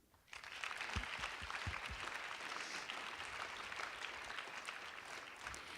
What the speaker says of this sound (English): maybe we could applaud them all now